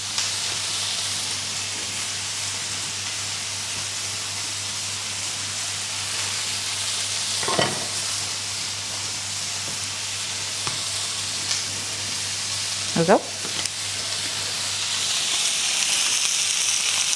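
Food sizzling and frying steadily in a pan while someone cooks a kebab dish, a continuous bright hiss with a couple of sharp spits and a brief spoken remark.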